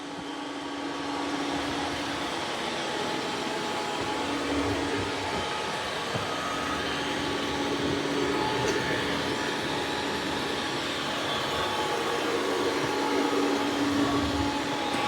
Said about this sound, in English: Now I've got it doing vacuuming and mopping at the same time.